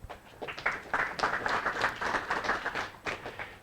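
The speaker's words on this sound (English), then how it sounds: "Round of applause for Tamas" Light, sparse clapping from a small audience at a tech conference talk, fairly quiet and uneven, with individual claps standing out as it welcomes the speaker.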